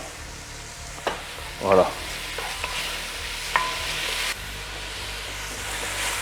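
Pork pieces seasoned with Île de Ré salt and pepper sizzle steadily in a frying pan, a soft continuous crackle with a couple of brief stirring clatters and a single short spoken word.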